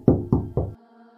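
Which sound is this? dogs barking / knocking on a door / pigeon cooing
knocking on a door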